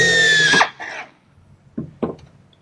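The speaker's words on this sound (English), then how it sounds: "I can drill a pretty straight line" A drill bit driven through a guide bushing into aircraft wing structure, a loud steady whirring grind for about half a second that cuts off, followed by two short quieter bumps.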